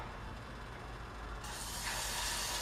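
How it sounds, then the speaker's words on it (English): Cannoli shells frying in hot oil give a steady broadband sizzling hiss that swells louder partway through, close and continuous with no talk. "And that sizzle, that's a nice sizzle."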